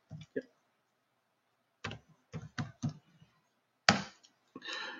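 Keys clack on a computer keyboard in short, irregular bursts of a few quick taps separated by pauses, close and fairly quiet in an otherwise still room.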